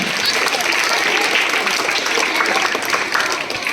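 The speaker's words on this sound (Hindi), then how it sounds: "please give her a big hand everyone" Applause from a school crowd greets a young prize winner at an annual sports day prize distribution, a steady dense wash of clapping that holds for several seconds and eases slightly near the end.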